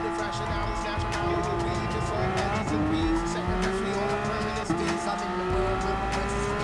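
A race car spins out in Gran Turismo Sport with traction control on: a loud, steady engine drone with sliding pitch and squealing tires throughout.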